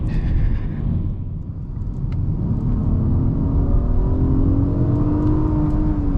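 A 2019 Acura TLX A-Spec sedan on the road, heard from inside as a steady engine rumble and tire roar that swells as it accelerates, with the engine note climbing through the second half.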